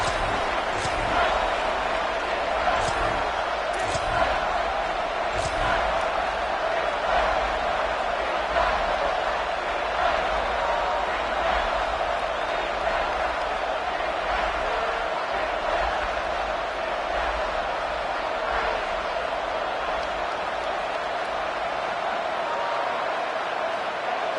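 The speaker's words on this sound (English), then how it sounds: "this crowd is bringing down the house" Stadium crowd roaring in a Madden/NCAA football video game, a steady dense wall of cheering that holds without a break, with scattered sharper bursts near the start.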